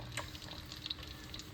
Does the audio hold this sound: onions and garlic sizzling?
yes